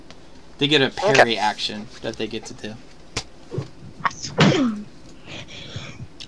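One sharp human sneeze bursts out midway through a lively tabletop game session, loud and close, with people chatting around it before and after.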